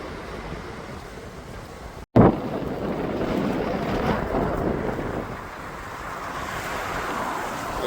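Steady wind roaring and buffeting a microphone while cycling in Japan, with a sharp cut partway through before the blustery rush continues.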